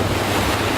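Strong wind buffets the microphone off the Kenyan coast near Watamu aboard a sport fishing boat, a loud, continuous roaring rumble with waves washing underneath and no voices.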